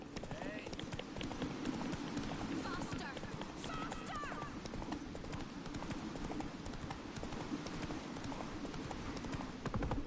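A horse gallops in a video game, rapid rhythmic hoofbeats pounding steadily throughout at close range, with a brief whinny and a voice speaking over the running.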